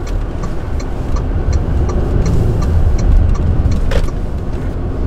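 Rapid, irregular clicking rattle from the center console of a Haval H4 with about 15,000 km, heard over a steady, loud cabin drone of engine and road noise while the car is driving.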